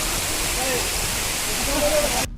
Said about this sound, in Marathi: दुसरा ओढा इथे आता क्रॉस करताना